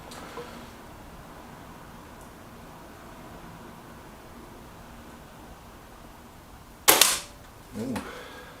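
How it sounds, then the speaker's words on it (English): Reximex Zone air rifle firing FX pellets at a 23-metre range: a sharp, loud crack after a long quiet stretch, followed about a second later by a softer second thump. "Our first pellet up is the FX. He'll be into the top left hand corner."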